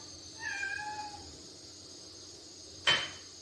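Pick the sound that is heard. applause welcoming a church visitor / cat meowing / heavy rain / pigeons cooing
cat meowing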